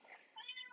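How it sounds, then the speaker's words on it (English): Calcifer, a pet cat, gives a couple of quick, faint meows from the background of a quiet room, short rising and falling cries with no talk over them. "That is my cat Calcifer in the background."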